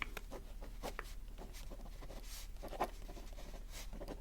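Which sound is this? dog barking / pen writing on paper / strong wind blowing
pen writing on paper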